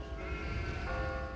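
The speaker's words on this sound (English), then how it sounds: "What's with all these damn sheep?" Sheep bleat in the video game Catherine on Xbox 360, in the Prison of Despair level. The wavering, overlapping cries are steady and fairly close, with no speech over them.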